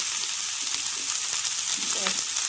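Cauliflower, carrot and potato sizzle as they fry in a hot pan at home, a steady broad hiss with a few soft stirring knocks and no voices.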